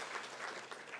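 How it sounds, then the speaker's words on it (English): Applause from a conference audience at an inaugural event on memory, ecology and sustainability, a steady dense clatter of many hands clapping, moderately near and sustained without a break. "I think we should applaud."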